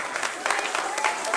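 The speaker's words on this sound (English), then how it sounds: "everybody, please give yourself a hand of applause" A crowd at a Bar Mitzvah or Bat Mitzvah party applauds in a dense, steady wash of clapping, moderately loud throughout this short burst.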